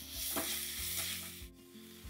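Sliced onions fry and get stirred in a pan, giving a close, steady sizzle with soft scraping strokes and no talking.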